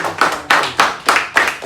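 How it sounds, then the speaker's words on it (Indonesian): Children in a classroom clapping hands together in a quick, steady rhythm of six or so sharp claps, close and loud, with no talking. "Tepuk tangan dulu buat semuanya"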